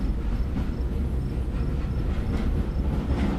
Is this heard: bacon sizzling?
no